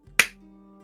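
One sharp, bright clap rings out loudly and briefly, then fades into a quiet, faintly humming room.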